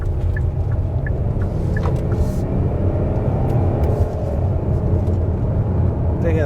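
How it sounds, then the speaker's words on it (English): A 2022 Hyundai Palisade Calligraphy SUV accelerates with a loud, steady low engine rumble and road noise from inside the cabin, with a brief voice over it. "They're gonna accelerate a little bit."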